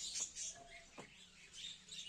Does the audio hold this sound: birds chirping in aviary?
yes